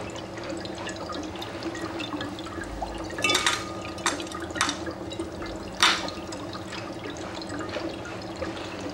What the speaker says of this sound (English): you can see really how the bubbles form in a violent fashion